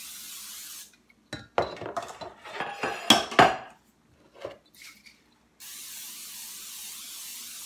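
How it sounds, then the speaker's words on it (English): Short bursts of cooking spray hiss onto metal cupcake pans in a home kitchen, several quick sprays with light clinks of the pans, set between stretches of quiet room tone. "I am going to just give my cupcake pans a quick spray."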